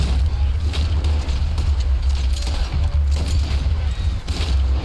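Gunfire in the video game Red Dead Redemption 2 during a shootout to rescue a hostage, heard as scattered loud shots over a dense, rumbling game soundscape.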